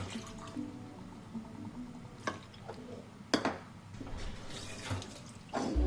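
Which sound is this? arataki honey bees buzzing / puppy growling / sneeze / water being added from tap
water being added from tap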